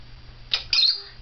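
A pet bird being cuddled gives two quick, shrill squawking chirps in close succession, close by and fairly loud over a quiet low hum.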